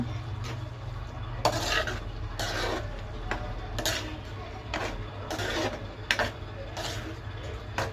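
Prawn gravy curry stirred in a pot, with soft repeated scraping and clinking strokes over a low steady hum from the stove area, fairly quiet with no clear talk.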